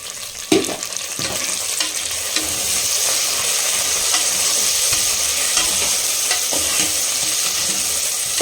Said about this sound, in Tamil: ஹை ஃப்ளேம் பண்ணிவிட்டு ரம்பா லீஃபு, கருவேப்பிலை சேர்த்துக்கலாம்.